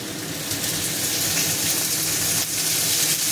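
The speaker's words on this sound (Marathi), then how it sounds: "मी आता कढीसाठी आणि ठेच्यासाठी तेल टाकून घेतलं" Oil sizzling in a pan while preparing kadhi and green chilli thecha, a steady close frying hiss that runs unbroken from start to finish with no talking.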